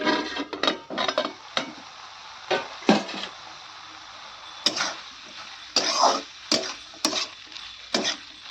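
Metal pot lid lifted and set down while soy greens cook, a few separate clinks and scrapes spread out amid quiet gaps, close and fairly loud, with no talking.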